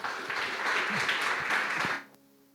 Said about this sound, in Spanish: Démosle un aplauso al Señor